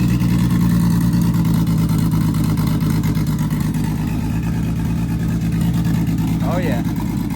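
A Nissan 350Z, recently repaired after a track crash, runs with a steady, loud, low engine drone close by, holding an even idle-like hum throughout with a brief higher squeak near the end.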